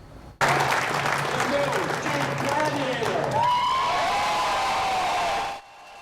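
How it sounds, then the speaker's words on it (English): Plant workers at the Jeep Gladiator pickup reveal in Toledo burst into a sustained roar of applause and cheering that fills the space for several seconds, then cuts off abruptly. "A roar of applause there."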